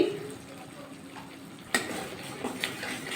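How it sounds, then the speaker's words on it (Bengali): Spices for an Afghani egg curry being stirred and fried in a pan, with a soft sizzle and the scrape and clink of a spoon against the pan, quiet and close. "আবার মশলাটা ভালো করে নাড়াচাড়া করে একটু কষিয়ে নেবো"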